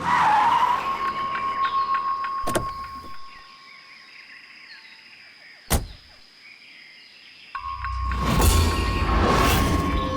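A car with two punctured tyres skids and scrapes to a halt amid tonal drama-style music, with a couple of sharp impacts and a swelling rumble near the end.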